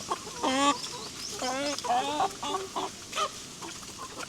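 Several free-range chickens cluck and squawk in bursts, fairly close, with softer farmyard background noise between the calls, on a farm in the Philippines.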